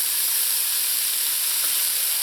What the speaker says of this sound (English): let this saute in here for about another minute